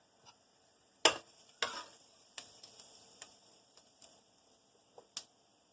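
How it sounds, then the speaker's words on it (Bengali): Bay leaves and cumin seeds dropped into hot oil, giving a few sharp crackling pops that start suddenly and then settle into scattered, fading spits and ticks, close and fairly quiet. "তেলের মধ্যে আমি 2টা তেজপাতা আর কাঁচা জিরা ফোড়ন দিলাম"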